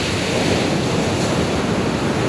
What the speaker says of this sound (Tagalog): Tatlong alon.